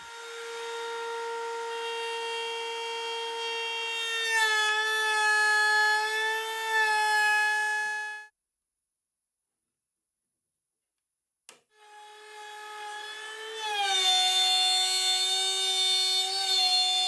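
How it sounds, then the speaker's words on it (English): A saw cuts slots into a wooden fence rail in a small workshop, giving a steady, sustained tonal whine that runs for about eight seconds, stops briefly, then resumes strongly. "I need to cut slots in the main rail"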